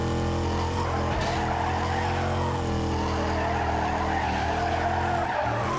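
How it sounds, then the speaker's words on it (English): In Need for Speed Carbon, car tires squeal and skid continuously while the engine drones steadily underneath, a loud, sustained slide with no break. "if my car would stop slipping and sliding"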